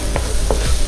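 Curry paste with paprika is stirred in a hot wok for a catfish curry, a short close sizzle with two soft scraping strokes.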